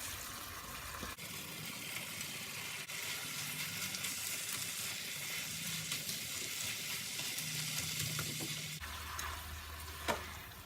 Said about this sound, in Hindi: मैं इसमें डाल दूंगी पालक